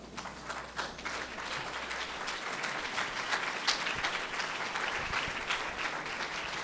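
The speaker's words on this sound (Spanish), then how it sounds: "Le damos un fuerte aplauso al Señor" A church congregation breaks into loud, continuous applause, a dense wash of many hands clapping together with occasional sharper claps standing out, sustained throughout.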